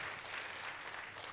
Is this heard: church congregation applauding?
yes